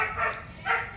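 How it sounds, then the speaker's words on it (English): Two muffled dog barks, about half a second apart, sound from a short distance away. "excuse the noise of the neighbor's dog."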